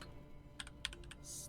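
A few quick keystrokes on a computer keyboard as a Linux command is typed, a short burst of clicks followed by a brief pause, faint and close with no voices.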